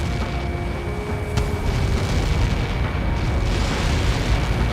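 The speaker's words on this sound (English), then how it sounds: "How many got caught in that explosion?" Aftermath of a missile-impact explosion in the Ace Combat 7 video game, a sustained loud, dense low rumble and roar that swells slightly, with a brief crack partway through and no voices.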